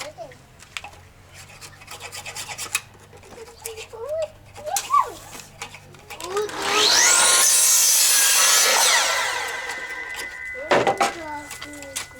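A hand saw rasps through wood in a steady, loud burst of strokes after scattered handling noises and brief voices.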